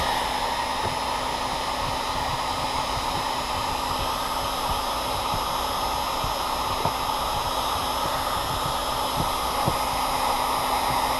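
Hot air heater blowing a steady, loud hiss and whoosh while warming inflatable boat fabric around a screw head during disassembly, continuous for the whole stretch with faint small clicks and no talk.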